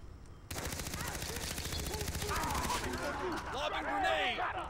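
Heavy automatic fire from a big gun in Far Cry 3 starts abruptly and hammers on in fast, steady rapid bursts, loud and close, with other game sounds warbling over it.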